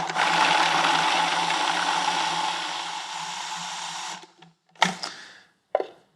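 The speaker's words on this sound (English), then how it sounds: "I'm going to grind it." An electric grinder whirs loudly for about four seconds grinding salt, pepper and pepper flakes into a granular seasoning, then stops, followed by two short bursts of rattling as the jar is handled.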